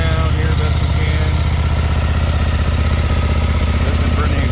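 Aprilia RSV1000 Mille motorcycle engine idling close up, a loud steady throbbing pulse with even rhythm throughout.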